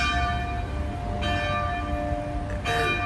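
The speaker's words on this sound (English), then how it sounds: "And as you can hear the bells," Church bells ring out at noon in Si Racha, Thailand, a sustained metallic peal with fresh strikes swelling in, steady and fairly loud against outdoor background noise.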